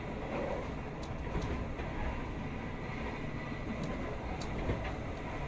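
Steady low rumble and rolling rattle inside a moving Argo Cheribon passenger train on the Jakarta to Cirebon line, continuous and moderately loud with faint intermittent clicks, no talking.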